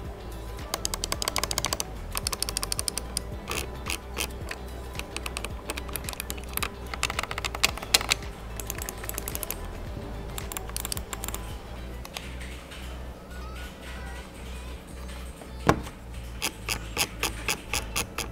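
A Razer Basilisk V2 gaming mouse clicks rapidly and repeatedly, a dense run of sharp, close taps with short pauses, heard alone.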